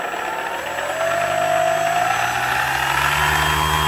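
A Flyzone Millennium Master RC plane's electric motor and propeller run at quarter throttle with a power system issue, a steady close whine and drone that rises slightly in pitch and level after the first second.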